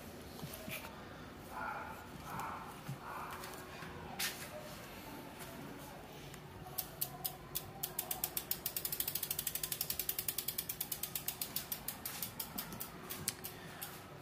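Freewheel ratchet of a carbon-frame mountain bike hub with a sealed-bearing rear hub, a soft mechanical rustle at first, then a rapid run of crisp, close clicks that speeds up and slows as the wheel coasts.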